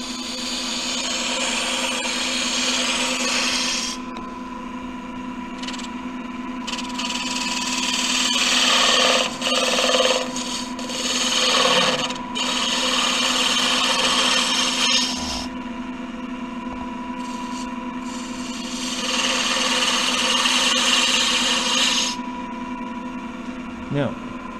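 A wood lathe spins steadily while a gouge cuts a bead and cove, steady motor hum beneath bursts of scraping, hissing cuts that come and go for several seconds at a time, close and fairly loud.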